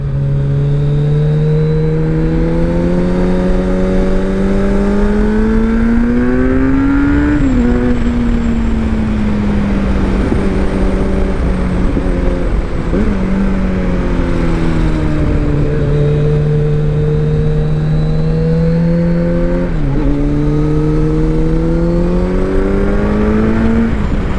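A 2021 Kawasaki Z900 being ridden, its engine humming loudly and steadily up close while the revs climb and fall in smooth sweeps, with brief dips at gear changes, under constant wind and road roar.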